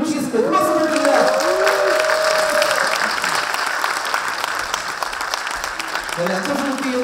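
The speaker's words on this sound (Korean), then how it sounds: "큰 박수 부탁드립니다." An audience at a health talk concert applauds steadily, a broad wash of clapping that continues throughout while a host's voice speaks over it at the start and end.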